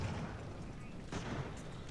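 Artillery fire in the naval-era strategy game Ultimate Admiral: Age of Sail, a dense rumbling barrage of low booms with a louder burst near the middle, continuous throughout, with a voice talking faintly underneath.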